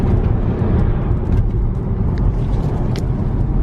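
A tuned BMW E60 accelerates on the road, heard from inside as a steady, fairly loud engine and road roar with no talk.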